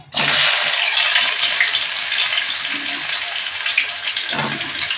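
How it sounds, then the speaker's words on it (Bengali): Onions fry in a pan, bursting into a loud, dense sizzle at the start that holds steady and close for the whole stretch with no talking. "পেঁয়াজগুলোকে একটু ভেজে নেব"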